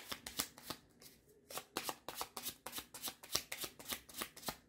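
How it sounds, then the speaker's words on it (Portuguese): Tarot cards being shuffled by hand, a rapid run of crisp riffling bursts in a steady rhythm, close and fairly quiet with no talk. "eu vou embaralhar novamente"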